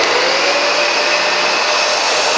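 A Dyson DC65 Animal upright vacuum cleaner runs steadily as it moves from carpet onto bare floor, giving a loud, constant broadband whine with an unchanging motor hum and no pauses.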